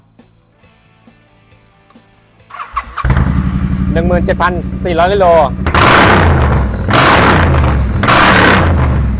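A 2019 Triumph Street Twin 900 with a Hercules full exhaust starts, then revs hard several times through the loud, throaty exhaust, with bursts of booming roar. Someone talks during the revving.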